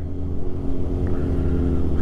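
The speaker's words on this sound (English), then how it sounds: "I can hear his bike over mine." A nearby motorcycle engine droning and rumbling steadily while riding behind another rider on a Kawasaki Ninja 1000 SX with a stock exhaust, the low throb close and constant with slight rises in revs.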